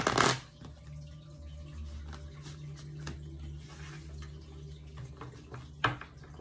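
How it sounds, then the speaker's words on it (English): Tarot cards being shuffled with a quick riffle at the start, then soft handling and a brief riffle near the end over a low steady hum. "One more shuffle for Pisces."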